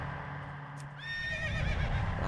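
Horses in World of Warcraft whinny loudly in a long, wavering neigh about midway, with faint hoof clops and ambient game sound underneath.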